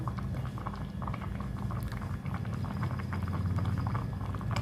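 Thick sugar syrup for a raw mango preserve boils steadily in a pan, giving a continuous bubbling, popping patter close up throughout with no talking.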